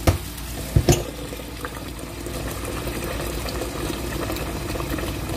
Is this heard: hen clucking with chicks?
no